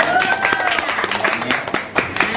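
Audience applause at a children's and family radio club event in Chonburi, a dense wash of clapping hands running steadily throughout with some voices mixed in.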